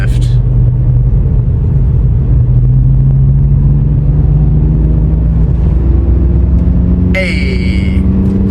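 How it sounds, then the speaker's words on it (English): Steady low engine drone and exhaust rumble of a car heard from inside the cabin during a downshift, continuous and fairly loud, with a brief higher-pitched rise near the end. "the exhaust sounded really good from inside the cabin"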